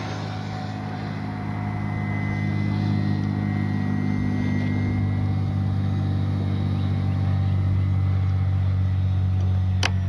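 FMS PC-21 Pilatus RC model airplane flying past at full speed on a sunny day, a steady loud electric motor drone with strong low tonal bands, holding level throughout with a faint whine above.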